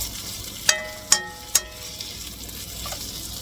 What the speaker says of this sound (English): give them a good stir, and we're going to let these fry up.